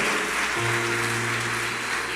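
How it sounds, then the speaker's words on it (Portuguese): Steady applause from a church congregation at a family seminar service, a continuous wash of clapping with a low sustained tone entering partway through. "Dê uma salva de palmas para a vida de Carol."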